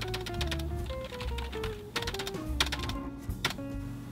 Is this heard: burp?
no